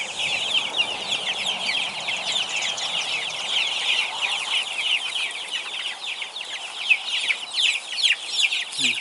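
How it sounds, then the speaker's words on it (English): A flock of chickens clucks steadily at an evening farmyard in the rain, a dense, continuous chatter of overlapping calls at close range with no speech. "we're going to have to catch 1 million chickens"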